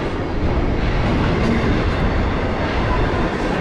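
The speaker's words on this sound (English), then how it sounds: "The train went by very fast" Freight train rushing past fast and close, a loud dense roar of wheels and rattling cars holding steady throughout.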